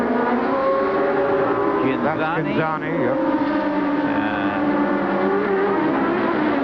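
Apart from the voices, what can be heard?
Formula One race car passing, 1988 German Grand Prix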